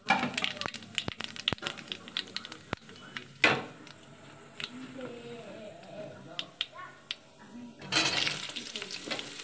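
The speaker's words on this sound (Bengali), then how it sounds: "আলু ভাজা হয়ে গেছে, এখানে আমি কালো জিরে ফোড়ন দিলাম" Black cumin seeds hit hot oil left from frying potatoes, crackling and popping in sharp, scattered bursts with steady sizzle underneath, a louder splatter flaring near the end, close up in a home kitchen.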